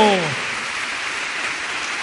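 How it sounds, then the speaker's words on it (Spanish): A church congregation applauds during a sermon, a soft continuous patter of many hands like rainfall, following a brief voice at the very start. "Sigue aplaudiendo, amado."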